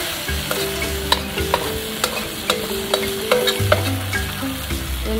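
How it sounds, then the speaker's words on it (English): Pad thai rice noodles stir-frying over high heat, with a continuous sizzle broken by repeated sharp clacks of tongs or a spatula against the pan, close and loud, with no speech. "So when it cooks, you will see that the noodles start to be soft and turn silky."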